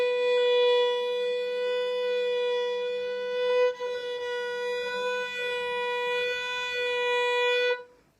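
A single long fiddle note bowed steadily for about eight seconds with a slow, gentle vibrato that barely wavers the pitch, clear and fairly loud, played solo without talking before it stops.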